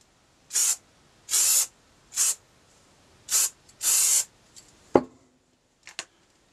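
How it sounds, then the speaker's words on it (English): A spray can lays down a primer coat on parts of a Retina IIa camera in five steady hissing bursts, each about a second or less. A few short clicks and knocks follow, with no talking. "then I'm going to spray it again, get a decent coat of primer on there"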